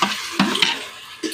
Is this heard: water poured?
no